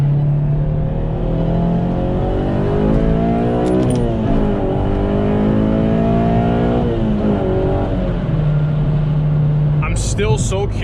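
A Honda JDM K24A engine revs hard in a car, climbing in pitch and bouncing off the rev limiter, then dropping back to idle with a sharp burst near the end, loud and close.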